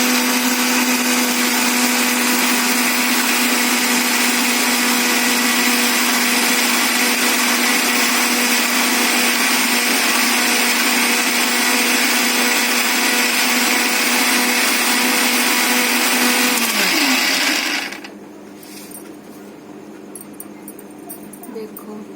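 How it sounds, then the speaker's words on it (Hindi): Kitchen mixer grinder whirring as it grinds mint chutney, a loud steady motor drone that runs continuously, then winds down and cuts off near the end, leaving quiet room sound. "अब मैं इसे पीसूंगी। मिक्सर में चटनी बहुत अच्छी होती है।"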